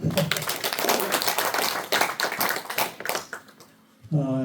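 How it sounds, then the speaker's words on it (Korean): An audience in a lecture hall applauds steadily for about four seconds after a speaker talking about the history of Yeosu asks for it. The clapping fades, and then a voice starts speaking. "박수 한번 쳐주십시오."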